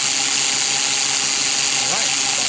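A 3D-printed fidget spinner whirs at about 2700 RPM, a steady, loud, continuous buzzing hum with a faint ratcheting texture, close by and with no talk.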